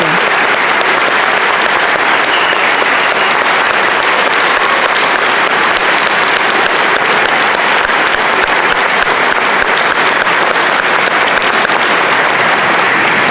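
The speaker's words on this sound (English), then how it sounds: "Please give Jillian a round of applause." An audience at a high school commencement ceremony claps loudly and continuously, a dense, even wall of applause from a large crowd that never lets up.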